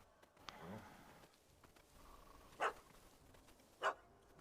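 A small dog in The Witcher 3 game gives two short, sharp barks spaced about a second apart, fairly faint against a quiet background with a brief yelp earlier.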